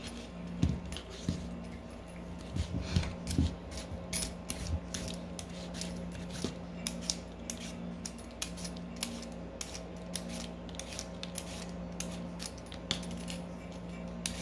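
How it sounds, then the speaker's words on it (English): A vegetable peeler scrapes an onion in a home kitchen, giving rapid, irregular rasping strokes and small clicks close by that keep going steadily, with no talking. "Got 1 onion. I might get a second one out. I'm not for sure. But we're just gonna peel and chop."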